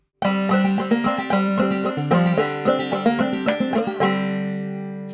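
Close-up banjo in sawmill tuning picks the B part of "Cluck Old Hen" in a brisk clawhammer rhythm, twangy notes over a droning string, ending on a sustained ringing chord.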